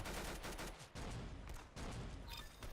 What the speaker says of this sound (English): it is a rocket launcher